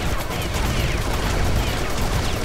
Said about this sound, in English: The sentry... I love the sentry gun.